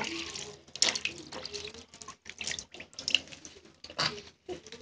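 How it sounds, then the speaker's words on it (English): Tap water runs into a sink or tub while plush toys are soaked, a broken splashing flow that rises and falls between handling noises, with brief voices mixed in. "So you kind of want to soak them."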